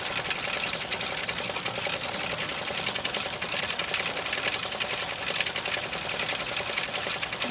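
A homemade lathe built with a bicycle rim runs with a steady, fast mechanical whirring and rattling. The sound is continuous and close by, with no talking.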